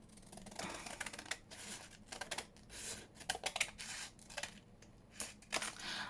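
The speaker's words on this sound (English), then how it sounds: "I think this envelope might need a bit of a touch up, so I'm gonna cut down here." Scissors snip through a paper envelope at a crafting table in a series of short, crisp cuts with brief pauses, close and fairly quiet, with no talking.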